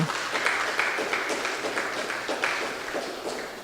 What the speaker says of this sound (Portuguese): Irmãos, dá uma salva de palmas aí para o Senhor, por favor.